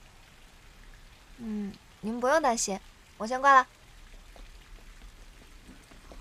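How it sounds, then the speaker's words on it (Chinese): Light rain patters softly and steadily in the background while someone speaks briefly on a phone call in the foreground. "挺好的，就是有点下雨。"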